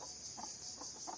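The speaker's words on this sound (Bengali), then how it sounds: "মাশাআল্লাহ মোরগটা অনেক সুন্দর বড় হয়েছে" A grown black rooster with patches of other colours clucks softly in a village yard, three or four short, spaced calls over a steady high hiss.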